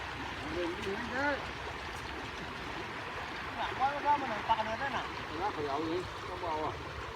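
Flowing water rushes steadily in the background while people talk over it, as floodwater runs along a street where people are casting a fishing net.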